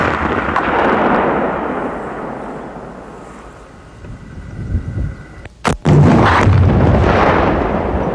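An M72 light anti-tank rocket launcher firing, a single sharp loud blast cracking out after a stretch of wind-buffeted outdoor rumble, followed by a roaring rush of sound trailing away.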